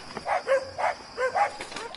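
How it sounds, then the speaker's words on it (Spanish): Dogs bark at night, several steady woofs in a loose rhythm at moderate distance, with no talk over them. "Solo se escucha el ladrido de los perros."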